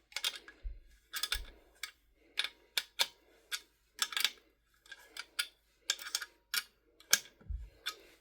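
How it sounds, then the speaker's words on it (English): A wrench ratchets repeatedly while tightening a part of a rolling TV stand, producing a steady series of short, crisp metallic clicks close by, with a couple of faint low thumps. "after attaching this piece, I'm just going to lock it with a wrench"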